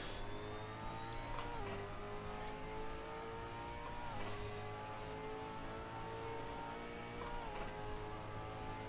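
A V8 Supercar engine in Assetto Corsa on an Australian circuit, loud and sustained as it climbs through the revs with brief dips at gear changes, heard from onboard.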